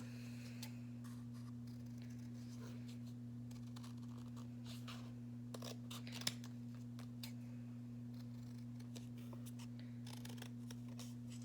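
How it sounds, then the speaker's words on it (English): Brown paper being cut into a cross shape with scissors, a steady series of soft, close snips and rustles over a constant low electrical hum. "and then I'm gonna cut it out"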